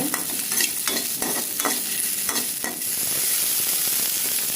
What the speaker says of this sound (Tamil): அதுவே ஆனியன் போடுறோங்க ஆனியனும் வதக்கணுங்க